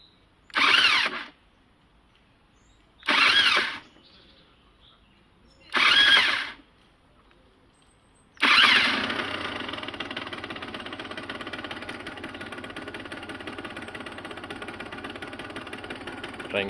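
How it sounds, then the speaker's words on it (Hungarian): A 2003 Derbi GPR motorcycle with a new, barely run-in engine cranks in three separate short bursts, then catches on the fourth try and settles into a steady, buzzing idle close by. "Nézzünk egy gyújtást."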